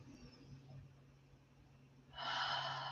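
A person draws a deep breath in during qigong practice. Quiet room tone and a faint low hum lead into a soft, airy inhale that swells near the end.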